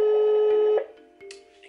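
A telephone calling tone plays through loudspeakers, a steady loud tone that cuts off sharply, followed by quieter clicks and faint line sounds.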